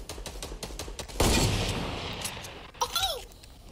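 Gunshots in Fortnite: a rapid burst of close, loud shots, then one heavy blast that rings out and decays, with a few later cracks and faint game sounds.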